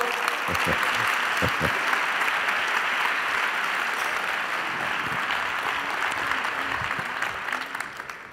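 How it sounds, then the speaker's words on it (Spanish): Sustained audience applause for Mario Alonso Puig at a talk on choosing your mindset, a dense steady wash of clapping from a large crowd that slowly thins toward the end. "Demos un fuerte aplauso a Mario"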